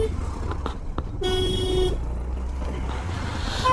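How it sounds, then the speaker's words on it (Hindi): Traffic in Badlapur on a monsoon scooter ride from Mumbai toward Malshej Ghat, with a vehicle horn honking one sustained blast and a few short toots over a steady road rumble. "और ये फिर से ट्रैफिक मिल गई।"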